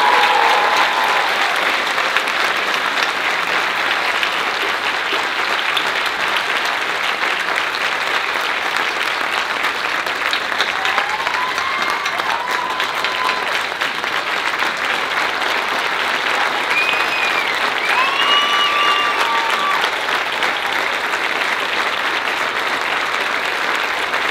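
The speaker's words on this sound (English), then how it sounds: "Let's give Joe one more round of applause." A graduation audience gives a long, sustained round of applause for a retiring math teacher, the dense clapping steady throughout with a few faint whistles rising above it.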